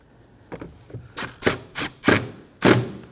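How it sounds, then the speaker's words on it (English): Screws being driven into the plastic rear door panel of a 2017-2024 Nissan Armada, giving a series of about six short, close tool bursts in quick irregular succession, the later ones louder. "Now we can go ahead and install these two screws."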